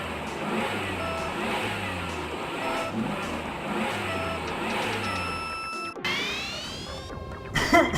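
Kart engine from the video game Super Mario Kart, a steady buzzing rev with looping pitch pulses, then a sharp rising whine near the end, moderately loud with no voices.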